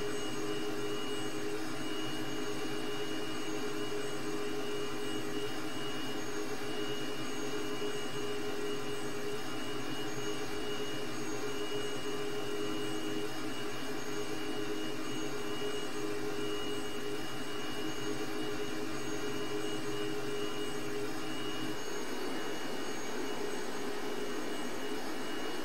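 A T-37 jet aircraft in flight gives a steady, loud engine roar with a high whine running through it. The drone is unbroken and eases slightly near the end.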